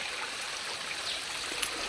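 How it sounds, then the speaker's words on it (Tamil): A forest stream flows steadily nearby, a soft continuous rush and trickle of water with no voices over it. "தண்ணி ஓடுதான்னு பார்க்குறேன்."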